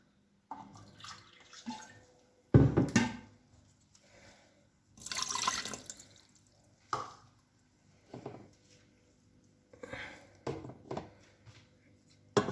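Water, about 180 ml, splashes and trickles into a pot of squash in several short pours, with quiet pauses between them; no talking.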